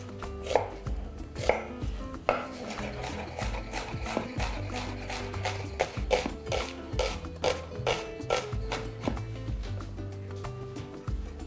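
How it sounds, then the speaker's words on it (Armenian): Two onions are chopped finely with a knife on a board, giving a fast series of sharp, close, rhythmic knocks with brief pauses, alone with no talking. "կտրատում ենք այն մանր"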